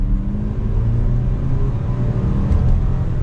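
A 2022 Jaguar F-Pace S SUV engine pulls hard in second gear under paddle-shift control, heard from inside the cabin as a steady, loud, low drone that rises slightly, with no talking.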